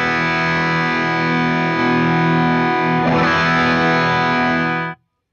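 Electric guitar run through a Wampler Belle overdrive pedal at maximum gain with the smooth clipping setting, a loud sustained distorted chord ringing steadily, a re-strum near the end, then cut off abruptly.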